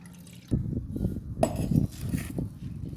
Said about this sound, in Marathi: आठ तासानंतर त्यातील पाणी नितरून घ्यायचं